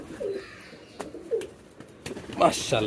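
Pet pigeons coo softly at close range, with low, gentle repeated calls heard over faint movement and background noise.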